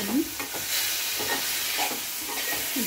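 Spice masala with ground coriander and garam masala is stir-fried in a pan for a prawn dish, a steady sizzle broken by a few scraping stirs of the spatula, close and alone.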